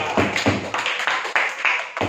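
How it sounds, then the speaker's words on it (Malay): Classroom clapping for a student group after a glass-separation experiment in a lesson on expansion and contraction, a short burst of several hands clapping, moderately loud, with no talking over it. "Tepukan untuk kumpulan Zuhal"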